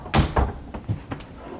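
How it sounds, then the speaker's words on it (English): A pull-out drawer in a custom closet cabinet slides open, making a few close, soft wooden knocks and a muffled thump in quick succession. "Pull-out drawers over here."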